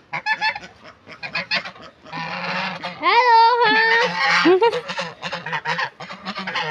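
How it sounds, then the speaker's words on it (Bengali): Large geese honking nearby in loud, repeated nasal calls that rise and overlap, with a person talking at times among the birds. "বড় বড় হাঁস, রাজহাঁস"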